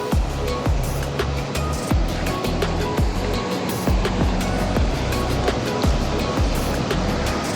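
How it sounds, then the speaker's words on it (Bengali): Strong river current at the Bhimkund viewpoint, a loud continuous rush of turbulent water that fills the scene steadily from start to finish, with no voices over it. "জলের স্রোত বীভৎস পরিমাণে।"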